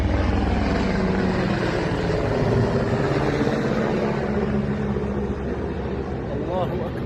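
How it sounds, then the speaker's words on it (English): A loud, continuous rotor rumble from helicopters flying over an area of Syria fills the air throughout, with droning engine tones and some indistinct voices underneath. "We were able to hear large amounts of helicopter activity within the area"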